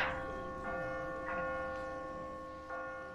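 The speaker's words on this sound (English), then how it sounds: "Okay, guys, it rang the bell." A church bell tolls in the game The Walking Dead, three or four evenly spaced strokes, each ringing out and decaying slowly into a long resonant hum.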